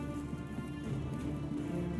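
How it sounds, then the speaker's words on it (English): Steady rain pattering down in the video game Hitman 3, a continuous, even wash of noise over a low background hum. "I hope you like the rain, 47."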